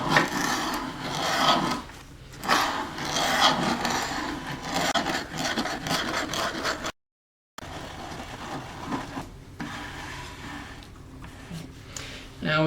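A thread cutter takes a light pass through a wooden nut, giving repeated raspy rubbing and scraping strokes in bursts with short pauses, close by, while a person talks over the work.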